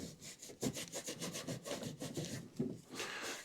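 A rag rubs old grease off the back of a part from a Craftsman Z530 mower deck, making quick, close scrubbing strokes in an uneven back-and-forth rhythm, soft overall with no voices.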